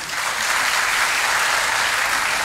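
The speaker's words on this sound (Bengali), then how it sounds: "হাততালি দেওয়ার কিছু নেই" Audience at a spiritual talk breaking into sustained applause, a thick, continuous wash of many clapping hands holding steady and loud from start to finish.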